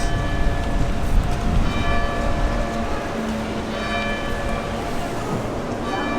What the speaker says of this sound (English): And then hearing those church bells.